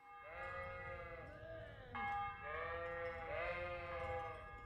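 Several sheep bleat in the video game Kingdom Come, a run of wavering, overlapping calls close by that fill the whole stretch over a faint low background.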